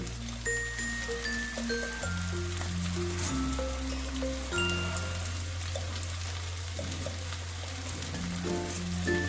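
Turmeric and ground spices sizzle in a frying pan for a bhola fish curry, a steady, faint hiss running beneath louder background music throughout.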